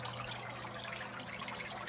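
A garden water fountain trickles steadily among flower pots by a doorway, a soft continuous splashing that stays even and close throughout.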